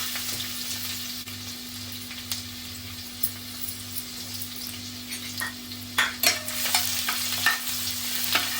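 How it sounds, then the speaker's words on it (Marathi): Garlic sizzles and fries in hot oil in a pan on the stove, a steady close crackle with occasional sharper pops and stirring scrapes, no talking. "तेल गरम झालेलं आहे मी लसूणची फोडणी करते"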